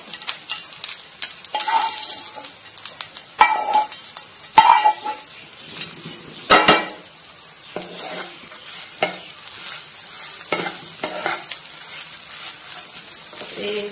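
Fried curry leaves tip into a pan of South Indian aam bhat, bringing a soft, steady sizzle with clinks of a spoon stirring, fairly close and fairly quiet, with no talking over it.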